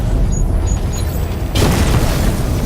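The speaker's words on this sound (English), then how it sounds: "The explosion disabled the main cannon." A deep, booming explosion in the video game Batman Arkham Knight hits suddenly and loudly after a rumbling lead-in, followed by a sustained roaring blast.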